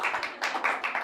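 Brief applause for Joshua at a startup talk event: a handful of claps in a quick, uneven burst lasting about a second.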